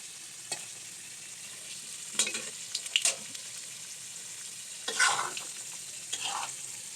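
Meat and potatoes frying in a pan with sour yogurt and raisins, a steady low sizzle broken by several sharp scraping stirs of a spoon, close and moderately loud with no voices.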